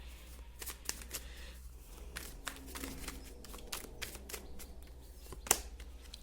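Tarot cards are shuffled by hand, soft quick riffling taps and flicks in a quiet room, close and faint.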